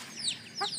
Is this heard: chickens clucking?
yes